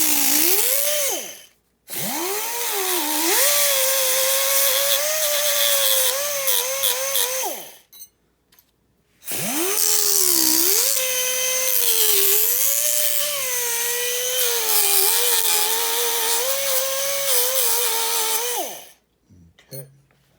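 A high-pitched rotary tool whines while roughening the edges of a Freewing Cougar model jet during a turbine conversion, in two long sustained runs with wavering pitch separated by a short pause, loud and close.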